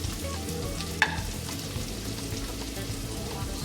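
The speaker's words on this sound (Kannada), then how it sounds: "ಚೆನ್ನಾಗಿ ಈರುಳ್ಳಿ ಎಲ್ಲ ಕೆಂಪಾಗೋ ತನಕನೂ ತಿರ್ಸ್ಕೊಂತ ಒಂದು 5 ನಿಮಿಷ ಫ್ರೈ ಮಾಡ್ಕೊಳ್ಳೋಣ" Onions, curry leaves and coriander frying in a pan for prawn ghee roast, a steady close sizzle with a sharp clack from stirring near the start and softer scrapes after.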